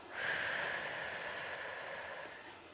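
A slow, deep breath during a yoga session: one long, airy exhale that rises quickly, then holds steady and soft for a couple of seconds before fading, heard alone and close.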